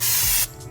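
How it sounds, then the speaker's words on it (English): Spray adhesive blasts onto the bare floor of a Nissan Skyline during a carpet install, a loud close hiss lasting about half a second before cutting off. "this stuff seems to work better if you spray it on the floor itself"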